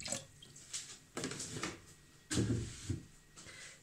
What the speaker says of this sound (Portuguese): eu vou colocar 2 litros de água aqui dentro do meu balde